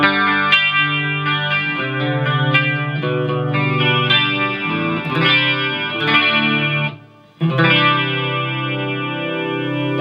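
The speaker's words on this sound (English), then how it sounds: "So this is clean, and they've got a bit of chorus on this from the sounds of it." A clean electric guitar with chorus effect played through a Marshall MG15HCFX mini stack amp with a touch of reverb, strumming sustained chords loudly and alone, with a brief break near the end.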